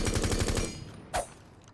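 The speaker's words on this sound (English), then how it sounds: "I'm actually gonna shoot the compensator over this and see what it looks like." A rapid burst of automatic gunfire from a rifle fitted with a compensator in Rainbow Six Siege, playing as Sledge. The burst is loud and close, cuts off after about half a second, and is followed by one fainter sharp report.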